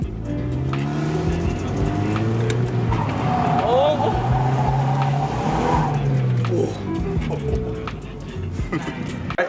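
Mazda Miata pulling handbrake drifts, its engine droning steadily while tires scrub and skid across the surface, with people talking over the car throughout.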